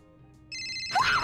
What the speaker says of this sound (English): Since Tori's phone ringing interrupted the vibe, Psychowitz decided acting class is just ove